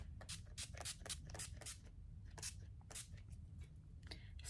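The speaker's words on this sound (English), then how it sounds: "I'm gonna just go ahead and spray my face again." Several short hissing bursts of makeup setting spray misted onto a face in an irregular rhythm, close by, over a low rumbling background.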